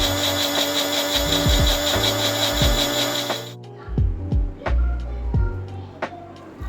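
A kitchen mixer grinder churns a thick paste with oil, its motor whining loud and close for a few seconds before cutting off, followed by scattered knocks and clatter of the jar.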